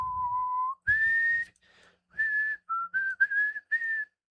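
A person whistles a short tune alone, clear and close, with held notes followed by several quick broken phrases.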